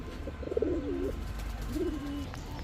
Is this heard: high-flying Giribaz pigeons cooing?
yes